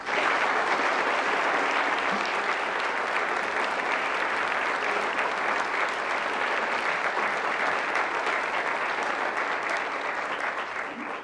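A lecture audience applauds steadily to welcome a speaker about engineering viruses to fight disease, a dense, even wash of clapping that holds for about eleven seconds and thins slightly at the end.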